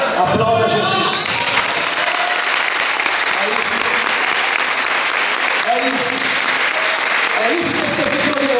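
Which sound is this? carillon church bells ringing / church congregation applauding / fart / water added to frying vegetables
church congregation applauding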